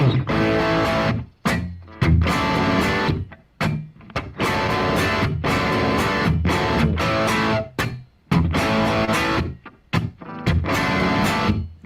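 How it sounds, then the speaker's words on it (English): A heavily distorted electric guitar through a tube amp plays loud crunchy chords and riffs with short breaks, a thick saturated power-amp overdrive tone throughout. "it's all power amp distortion"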